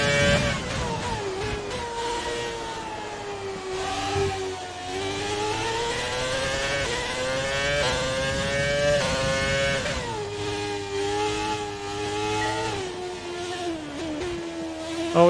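An old-school Red Bull Formula 1 car in the F1 2020 racing game, its engine screaming loud and continuous, pitch climbing and dropping repeatedly through gear changes, with no voices.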